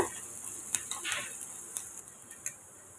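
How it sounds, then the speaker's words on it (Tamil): Onion, dried red chili and curry leaves sautéing in a pan with mustard seeds and cumin: a faint, steady sizzle with a few light clicks and stirring taps, quiet and close, with no talking. "இது கூட வெங்காயம் ஒரு வத்தல் கருவேப்பிலை சேர்த்துட்டு இப்போ அது ரெண்டு நிமிஷம் நல்லா வதக்கி விட்டுக்கோங்க"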